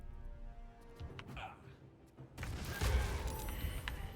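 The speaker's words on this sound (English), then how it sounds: "Throw a bomb." A thrown bomb explodes in a Baldur's Gate battle, a sudden loud broadband blast arriving midway after quieter sparse game sounds, with crackling debris and rumble continuing afterward.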